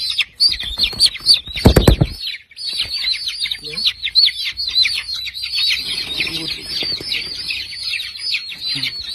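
A crowd of chickens being handled for fowl pox vaccination keeps up dense, high-pitched cheeping and chatter close by, with a brief loud thump near the start.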